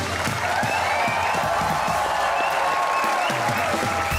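A studio audience on the comedy talk show Hasna Mana Hai welcomes actors Ali Kazmi and Sana onto the stage with sustained, even clapping and some cheering that stays close and loud throughout.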